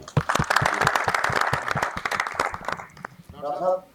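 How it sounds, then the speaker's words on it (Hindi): Applause for a stage actor on a Pakistani talk show panel, a short burst of clapping mixed under a man's speech that fades out before another voice rises at the end. "रजी खान के लिए तालियां।"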